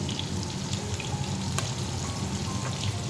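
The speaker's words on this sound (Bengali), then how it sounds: "আর সিম ভাজাটাও শুরু করে দিয়েছি।" Flat beans fry in a pan, making a continuous, even sizzle heard up close at a steady moderate level.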